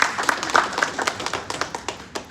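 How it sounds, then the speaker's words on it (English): An audience at a Bengaluru blockchain conference claps briefly for a speaker, a sparse patter of hand claps that thins out quickly. "Please give a round of applause for him"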